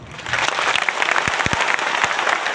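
Auditorium audience at a coaching-class seminar in Patna bursting into sustained, dense applause, loud and steady throughout with no talk over it.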